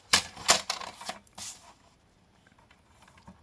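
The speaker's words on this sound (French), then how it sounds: "Moi, je vais le couper au massicot" A paper guillotine trims paper for a handmade bookmark pouch, producing a few sharp, close clacks in quick succession, then falling quiet apart from faint rustles.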